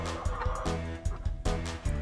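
Several Rhode Island Red chickens cluck and gobble close by in repeated short bursts, a busy flock sound with no voices.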